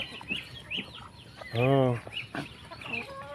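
Farm chickens cluck near and loud during feeding in a tropical setting. A long, insistent squawk rises in the middle among scattered clucks, and a voice speaks briefly.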